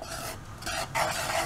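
Dry wheat flour is stirred while roasting in a pan, a quick sequence of soft scraping and rasping strokes that come close and quiet, with no one speaking.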